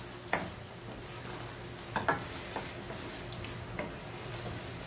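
Vegetable navratan korma being stirred in a pan, a low steady cooking hiss with a few distinct scrapes and knocks of the spoon against the pan, close and alone.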